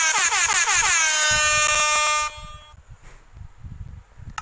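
A loud air horn blares for about two seconds, its pitch bending at the start, then cuts off, leaving quieter background noise.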